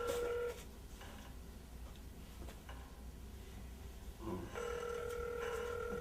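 A telephone rings unanswered in a house, a steady electronic ringing tone that stops for a moment and then resumes, heard over a constant dense background hum with no voices.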